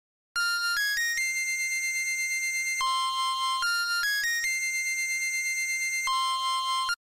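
A bright, clean synth lead plays a simple repeating melody of sustained and short notes, loud and alone.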